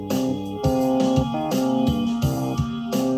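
A looping electronic pad with steady sustained tones and rhythmic low thumps, repeating in even pulses, warm and hypnotic with no talking.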